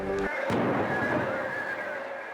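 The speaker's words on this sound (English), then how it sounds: "A few seconds ago, we just had repeated explosions in the street below me." Explosions from a suicide bombing ring out in a street below, a sharp blast followed by a rolling, echoing roar and lingering rumble of city noise from a distance.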